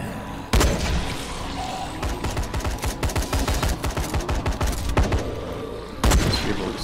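Rapid gunfire in the zombie video game Dying Light, a few sharp loud shots followed by a fast run of repeated bursts, then more single cracks, with no talking.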